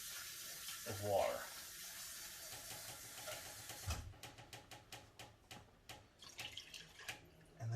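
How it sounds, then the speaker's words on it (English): Half a cup of water is poured into a pot of crawfish étouffée as it cooks, starting as a hissing, splashing pour that fades away. Soft bubbling and light clinks from the cookware follow, and a voice talks quietly under the sound. "We're going to add about a half cup"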